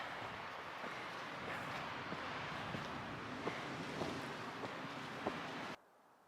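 Steady, roaring wind buffets the microphone on a high rocky mountain trail along the Continental Divide, a dense rushing gust with a few brief thumps, then cutting abruptly to near silence at the end.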